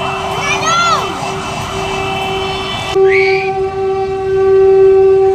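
A train goes by close and loud, sounding a sustained horn with shifting pitch, over a steady rumble of wheels and traffic noise on a street where fire trucks are heading to a fire in the Philippines.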